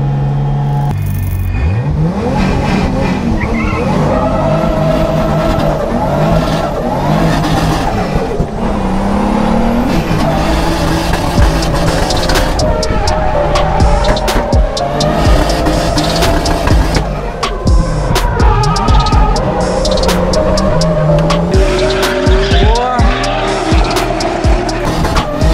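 Drift car at a drift championship practice, engine revving hard with repeated long tire squeals and skids, loud and close, the car's engine later breaking down on the last lap.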